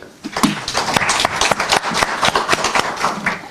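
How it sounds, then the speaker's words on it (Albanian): Audience clapping at a literary gathering, a steady burst of many hands spread across the room, moderately loud and continuous for a few seconds without speech over it. "për këtë kërkoj një duartrokitje"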